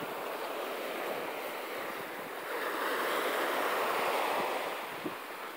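Ocean surf washing steadily onto the shore, a continuous broad roar of breaking waves with some wind noise, swelling slightly toward the end, no voices.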